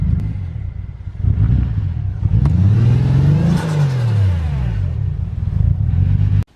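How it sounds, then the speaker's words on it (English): A Nissan Skyline R34 fitted with a Vibrant muffler revs up from a rough idle, the engine note sweeping up and back down in one loud, close surge before settling again. "So happy I went with the vibrant muffler. It sounds so good, nice and quiet."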